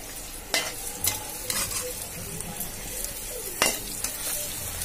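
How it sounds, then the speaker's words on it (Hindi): Fish fries in a pan with a steady crackling sizzle, punctuated by a few sharp scrapes and knocks from a spatula at irregular intervals, heard close with no speech. "इसे फ्राई कर ले 2 मिनट के लिए"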